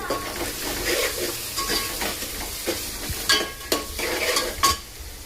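Soya chunks and masala being stirred in a hot pan for soybean khichdi, with a steady background sizzle broken by several distinct scraping strokes of a utensil against the pan, close and moderately loud.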